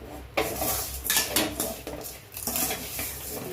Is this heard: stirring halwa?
yes